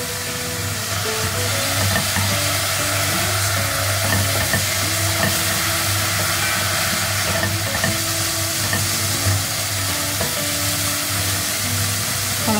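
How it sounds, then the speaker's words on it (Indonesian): Dried shrimp stir-frying with fish sauce in a pan, a steady continuous sizzle with scraping stir strokes throughout, loud and close with no talking. "Ini kita tumis sampai kering ya udang ebinya."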